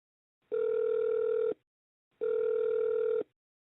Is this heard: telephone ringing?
yes